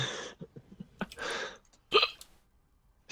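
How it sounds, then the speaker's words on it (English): A person hiccups while playing League of Legends: a couple of sharp, sudden hiccup bursts between breathy noises, close to the microphone. "I got the hiccups again"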